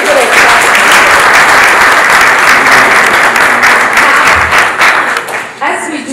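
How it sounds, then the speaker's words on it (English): A conference audience breaks into loud, sustained applause for newly certified Scrum Masters, thick clapping that thins out toward the end. "Let's give them a little clap."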